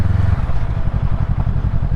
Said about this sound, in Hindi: यहाँ पे अपनी बाइक को खड़ा करते हैं